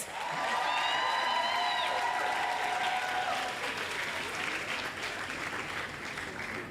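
Applause from an audience at a pharmacy and health care sciences oath taking ceremony, a steady dense wash of clapping that runs the whole time, with a few brief whistles early on and no talk over it.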